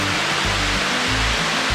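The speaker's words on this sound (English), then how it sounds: "This is the highest waterfall in Florida, 73 feet." A 73-foot waterfall in Florida plunging into a limestone sinkhole roars as a steady, dense rush of falling water, loud and continuous with no voices.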